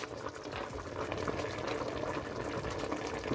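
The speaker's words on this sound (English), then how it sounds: "it's time to add the Egwusi paste" Egusi paste going into a pot of boiling Nigerian soup, with a soft, continuous bubbling and gurgling of the liquid at a moderate, close level and no talk.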